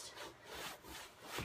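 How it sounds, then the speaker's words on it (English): A sandpaper square rubbed back and forth over a painted fabric chair, a soft rhythmic scratchy swishing with a few strokes, close and quiet, with no talking. "just my sandpaper square, and I'm just going to rub it."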